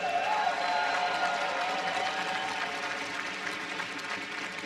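A BlizzCon 2015 convention crowd applauds and cheers in a steady, dense roar of clapping that continues without a break, fading slightly toward the end.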